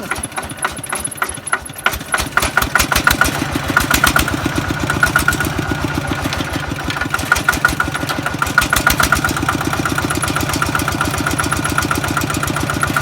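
A ride-on farm tractor's diesel engine cranks and catches, then idles with a loud, steady, rapid chugging knock close by.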